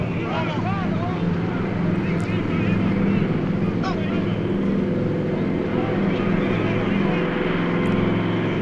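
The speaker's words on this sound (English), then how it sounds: "The plane is come!" A plane approaches in a 1952 film set on the plains below Kilimanjaro, its steady engine drone filling the scene continuously while voices talk over it.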